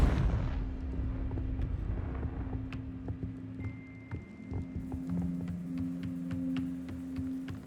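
A Confringo fire spell bursts in Hogwarts Legacy with a loud booming blast that rolls away into a fading rumble, followed by lingering magical tones and faint scattered clicks.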